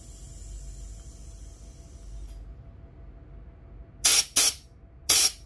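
An air compressor fills an electric scooter tire: a faint steady hum, then three sharp, loud bursts of hissing air close by near the end, with no talking.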